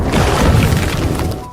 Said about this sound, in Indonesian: tepat saat kapal itu meledak